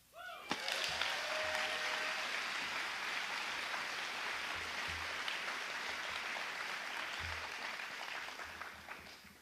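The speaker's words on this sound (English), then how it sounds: "Can we get one big hand clap for Jane Such?" An audience claps together after a sharp opening clap, sustained and fairly even applause that stays moderately distant and slowly fades over about nine seconds.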